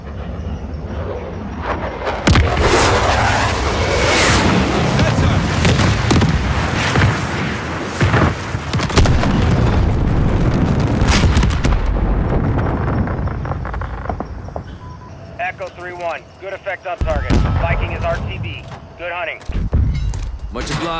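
Airstrike explosions in Call of Duty Modern Warfare, dense loud booming and rumbling blasts for about twelve seconds, then lower rumble and mechanical noise, with voices over the top.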